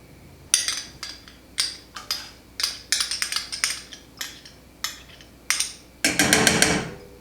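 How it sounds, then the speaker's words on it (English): Ingredients for Carolina style vinegar BBQ sauce whisked together in a pot over medium heat, giving a series of sharp metallic clinks and scrapes in uneven strokes, with a faster burst of rapid clinking at the end. "we're gonna just whisk them all together accordingly."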